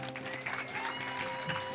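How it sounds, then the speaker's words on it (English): Quiet applause from an audience at a community event, steady clapping in the background with a faint tonal hum underneath. "Give them a big round of applause."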